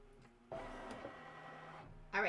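An embroidery machine stitches a snowman quilting design for a Kimberbell table topper, giving a steady mechanical whirring hum that starts abruptly and then runs continuously. A louder rattling burst comes at the end.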